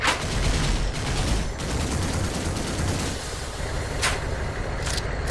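A vehicle's coaxial machine gun firing with bullet tracers in a video game, long bursts of rapid rounds over a rumbling engine, with brief pauses and sharp bursts near the end.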